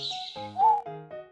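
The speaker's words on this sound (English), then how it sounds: "Owl, soft hoot hoot." An owl gives a few soft, low hoots in quick succession, close and clear with no other sounds.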